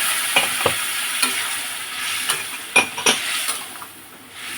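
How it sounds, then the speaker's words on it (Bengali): Potatoes stirred and sautéed in a hot pan: a steady close sizzle of frying with intermittent scraping and clinking of the utensil against the metal, no voices. "এবার আলুটাও একটুখানি কষে নিচ্ছি"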